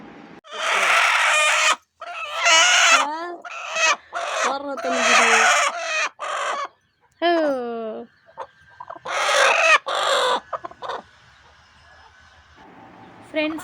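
Several hens bunched together on a Tamil home farm give loud, repeated clucks and drawn-out squawking calls close by, with busy stretches broken by short pauses.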